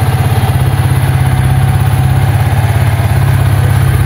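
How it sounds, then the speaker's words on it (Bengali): A Suzuki Gixxer SF 250 motorcycle idles at about 2000 rpm, a loud, close, even engine thrum with a steady pulsing beat and no talk over it. "তো 2000 আরপিএম সাউন্ড হচ্ছে এটা।"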